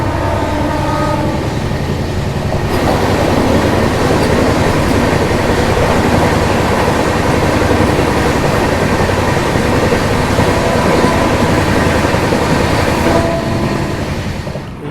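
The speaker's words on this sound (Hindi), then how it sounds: "बिहार में देख लीजिए दिल्ली मेट्रो से क्रॉसिंग, क्या मस्त लग रहा है" The 12561 Swatantrata Senani Superfast express runs past a Delhi Metro crossing, giving a loud, continuous close rumble and clatter of wheels and coaches that swells after a few seconds and holds steady, with no talking.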